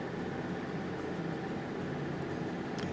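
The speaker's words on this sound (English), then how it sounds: "The noise you hear, that's the air conditioning." A portable air conditioner runs inside a small museum, giving a constant, even whooshing hum with no change in level and no voices.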